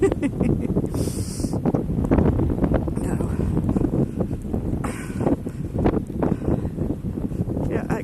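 Strong snowstorm wind buffeting the microphone on Ameland island, a continuous loud roar and rumble with gusts, while a person talks over it.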